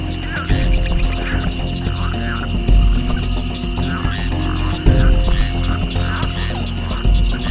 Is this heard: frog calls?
yes